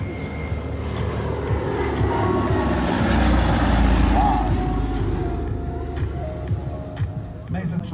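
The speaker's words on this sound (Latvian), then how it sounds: "Mēs pļavās un tuvojas šis ikoniskais lidaparāts." An iconic aircraft approaches low at the Baltic Air Show, its engine roar swelling to a loud peak midway and then easing off, with faint crowd noise and scattered clicks throughout.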